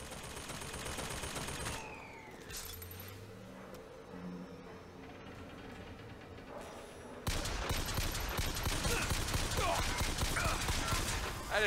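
Turret gunfire in the PC shooter BioShock Infinite comes in loud bursts among game effects and engine-like whooshes, swelling to a dense, sustained barrage in the last few seconds.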